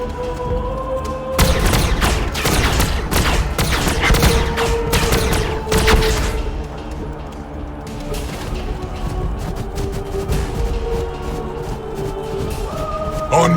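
A plasma fire support barrage in Warhammer 40k: Battlesector, with dense rapid volleys of blasts and booms crashing over a loud, continuous battle din. The heavy bursts ease after a few seconds but keep rumbling on.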